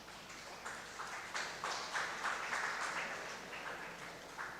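Scattered applause from a lecture audience, a moderate clatter of claps swelling and easing in waves across the whole stretch with no voices over it.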